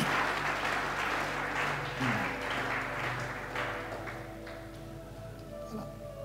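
A church congregation applauds during a Sunday service, with moderate clapping that fades gradually while voices carry on underneath.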